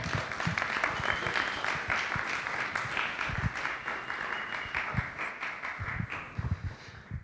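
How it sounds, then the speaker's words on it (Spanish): A church audience applauds steadily and fairly loudly to welcome a guest preacher at a Sunday service seminar session, the dense clapping running unbroken for several seconds. "nuestro hermano, el señor Marco Castellón, así que lo recibimos con un fuerte aplauso"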